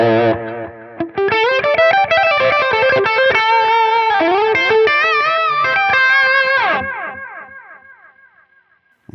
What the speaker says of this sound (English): now I'll turn the pedal on, see what the settings all at noon sound like